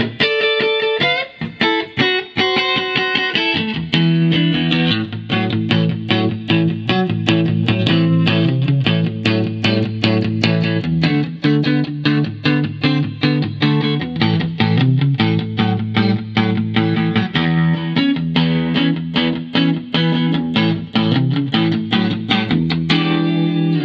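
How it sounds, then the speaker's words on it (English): A 1964 Fender Stratocaster L-Series electric guitar on the neck pickup, played through a Hot Rod DeVille amp with a little reverb, loud and close: ringing chords and notes, then a steady, driving strummed rhythm. "All right, we're out front here with the 64 L-Series Fender Strat."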